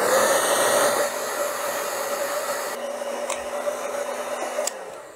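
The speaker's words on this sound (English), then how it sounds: "get those joints really nice and warm for about a minute or two with that hair dryer" A hair dryer blows hot air onto plastic spinning-wheel flyer joints to soften them, a steady close whirring hiss that shifts tone partway through and quiets near the end.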